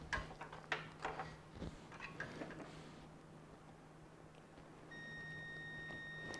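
A multimeter gives a steady continuity beep while probing headlight motor wiring on a 1997 Firebird, a sustained tone that starts partway through after some handling clicks and rustling.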